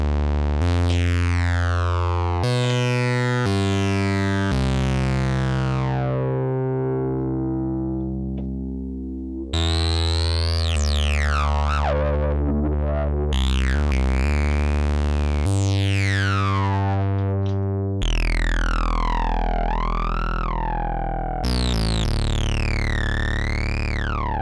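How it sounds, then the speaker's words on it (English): Dreadbox Typhon monophonic synthesizer played through distortion, bright buzzy tones with sweeping pitch glides and sustained notes, loud and continuous with abrupt changes between patches, no talking. "Listen to that distortion, it's absolutely gorgeous."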